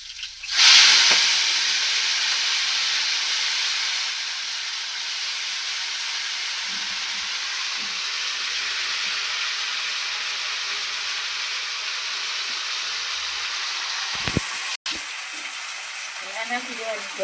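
Radish greens with whole garlic hit a hot pan and burst into a loud, steady hissing sizzle that holds for many seconds, with a couple of brief knocks near the end and a voice speaking over it.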